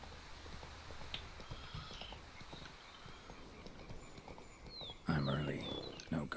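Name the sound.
horse Roach trotting in video game The Witcher 3: Blood and Wine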